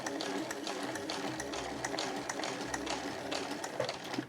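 A household sewing machine stitches heavy canvas, a rapid mechanical rattle of needle strokes running continuously and close, with brief changes in pace and no talking.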